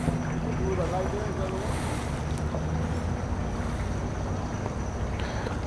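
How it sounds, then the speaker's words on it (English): A 21-foot Carrera flat cat boat approaches a boat ramp, its low engine drone and wash steady over wind buffeting the microphone, with voices talking over it throughout. "The 21-foot Carrera flat cat coming in."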